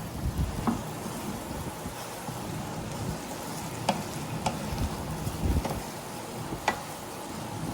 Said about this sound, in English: Get the rice coated with the oil and let it cook for a minute or two.